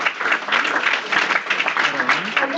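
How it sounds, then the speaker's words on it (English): Applause for students at a college mock IMF board meeting in Panipat, a thick, continuous crowd clapping with faint voices mixed beneath it. "give a big round of applause for our students"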